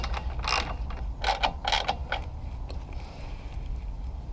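Screws being tightened on a front mount intercooler during installation on a Golf MK4 GTI 1.8T, giving several short bursts of close ratcheting clicks spread over a few seconds against a low background hum.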